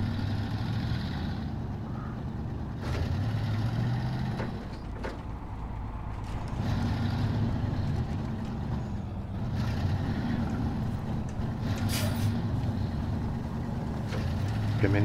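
A truck in the Snowrunner video game rumbles along at low volume in Michigan, with its engine droning and mechanical clunks and rattles coming and going over about fifteen seconds.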